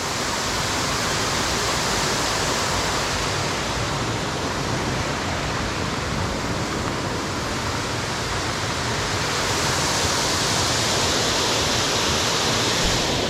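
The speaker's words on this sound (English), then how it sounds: "The water going down through there." A waterfall at Frozen Head State Park, dropping roughly 10 to 15 feet, gives a steady, loud, broadband rush of falling water with no pauses, heard up close and with no voices.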